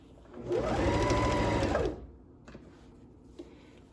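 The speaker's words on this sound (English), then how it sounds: "You really want to make sure you're sewing about 1/4 of an inch or 1/2 of an inch from the edge" Sewing machine stitching fabric for a pair of pants: a loud, close mechanical whir that runs for about a second and a half, then cuts off, followed by a few faint clicks and handling noises.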